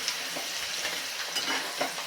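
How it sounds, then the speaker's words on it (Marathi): Finely chopped onion stirred into a hot curry leaf tempering, sizzling loudly and close while a spoon scrapes through it in quick, uneven strokes. "कढीपत्त्याची मस्त खमंग फोडणी बसली आहे आता एक मध्यम आकाराचा बारीक चिरून घेतलेला कांदा घालून घेऊया"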